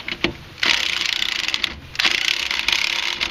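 Wrench work on the front strut bolt of a 2001-2006 Hyundai Santa Fe, close and loud: bursts of rapid metallic ratcheting clicks, pausing briefly, then resuming as the bolt is turned back and forth.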